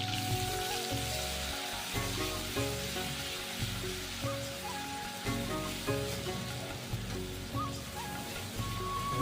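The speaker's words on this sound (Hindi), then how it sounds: "ग्रेवी को हम तब तक भूनेंगे जब तक इसका गोल्डन ब्राउन कलर नहीं आ जाता" Gravy made from small onions fries slowly over low heat in a pan, a steady, soft sizzle and crackle running throughout with faint scraping, fairly quiet and without talk.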